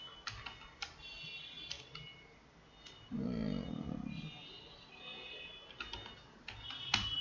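Typing names into an MS Word chart on a computer keyboard: scattered light key clicks with uneven gaps, quiet and close, with a brief low rumble partway through and no talking.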